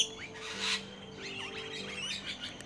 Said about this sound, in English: those are my noisy miners.